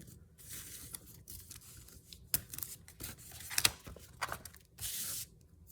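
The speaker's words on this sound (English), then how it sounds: "When the tape pulls off of the roll." Washi tape peels off its roll in faint, close ripping pulls, with a longer, steadier strip of tearing near the end; quiet, with no voices.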